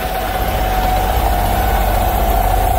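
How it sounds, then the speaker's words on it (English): Vanair 185 UDEC air compressor system driven from a truck PTO, running as a loud, steady low engine drone with a constant mid-pitched whine and no talking. "this Vanair 185 system seems to work just fine now that I got my PTO working"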